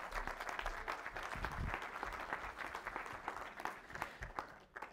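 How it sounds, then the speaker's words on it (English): Church congregation applauding during a service, a steady round of clapping from many hands that stays fairly quiet and distant for several seconds, with no talk over it. "Let's give her a round of applause."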